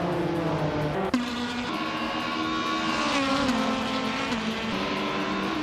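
Engine of a 2006 Audi A4 B7 race car in a racing video game, a steady, close, droning whine that climbs and drops with gear changes, with one sharp click partway through.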